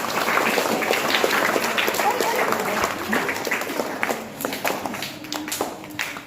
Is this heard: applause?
yes